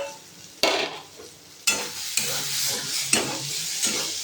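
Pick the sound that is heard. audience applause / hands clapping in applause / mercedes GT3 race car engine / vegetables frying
vegetables frying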